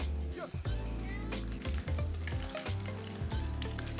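Sweet snacks sizzle and fry in hot oil in a home kitchen, a continuous bubbling crackle with occasional clinks and shifts as pieces are moved in the pan.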